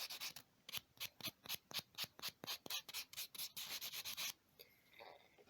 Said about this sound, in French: vous passez un petit peu de ponce dessus, très légèrement, pour gratter l'ongle